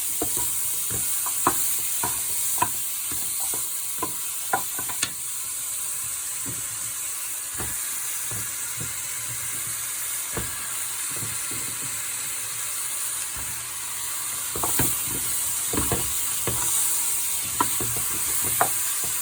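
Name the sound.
vegetables added and stirred in cooking pot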